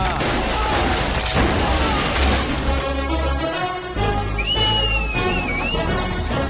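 A man whistles in a Hindi-dubbed action film scene, wavering high whistled notes rising and falling in the second half, over loud music, thuds and crashes, with voices in the mix.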